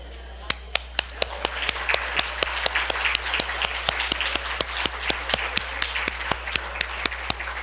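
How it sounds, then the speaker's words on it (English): Audience applause for veterans' spouses standing at a veterans' gathering: steady, sustained clapping from a crowd in a hall, with sharp individual claps standing out near the front over a low constant hum. "I know you've done this once before, but you deserve all of our applause."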